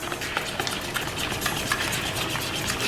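Homemade gravy of tinned sausage with barbecue sauce and a teaspoon of sugar is stirred with a utensil in a pot, giving close, repeated scraping and clinking strokes over a soft bubbling background.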